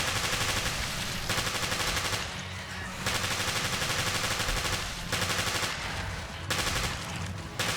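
Rapid gunfire from Jessica's weapon against an invisible hunter in Resident Evil Revelations Raid mode at Terragrigia, fired in long dense bursts with brief pauses, loud and alone.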